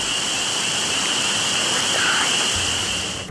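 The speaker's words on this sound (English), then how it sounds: "A soft rain falls" Soft rain falling steadily at night, a continuous even hiss with no breaks, heard alone without voices.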